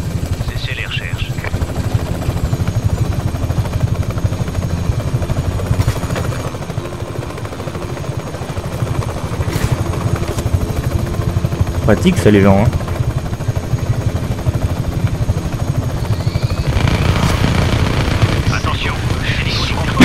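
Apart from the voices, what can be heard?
helicopter flying in video game Just Cause 3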